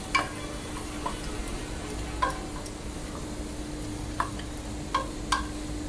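Half a kilo of mutton is mixed into masala in a pan over a steady frying hiss, with occasional light ticks and scrapes from the spoon; no voices.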